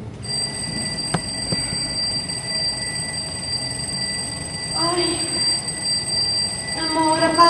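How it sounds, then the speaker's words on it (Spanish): An alarm clock rings indoors in a bedroom on a Sunday morning, sounding as steady high electronic tones that run throughout, with a burst of brighter ringing near the end and low background noise beneath. "Ay, amor, apaga el despertador."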